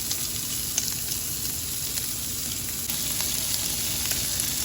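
Mushrooms and pepper fry in a pan inside a van, giving a steady, close, even sizzle with small crackles throughout and no talking.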